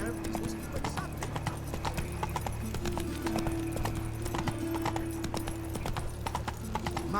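Roach the horse's hooves clip-clop at a steady trot in The Witcher video game, carrying on throughout over ambient music and murmuring voices.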